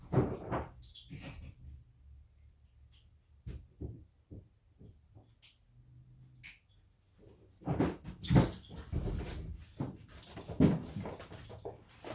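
A young dog, an 8-month-old chocolate Labrador, whimpers in short, thin, high whines that come in scattered bursts, with close scuffling and movement growing busier toward the end.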